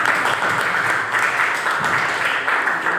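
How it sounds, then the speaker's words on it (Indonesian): Students in a classroom give a steady round of applause, a dense continuous patter of many hands at moderate loudness with no pause throughout. "Yuk, tepuk tangan dulu dengan hasilnya"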